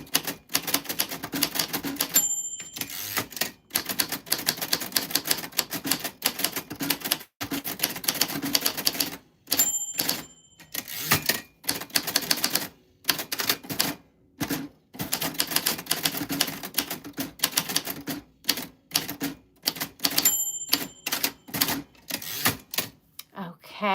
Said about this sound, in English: just typewriter typing as promised